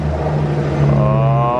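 A Mercedes C300 engine revs steadily at close range, a sustained droning note that rises slightly in pitch toward the end, with no talking over it.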